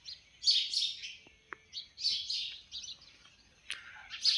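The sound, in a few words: sparrows chirping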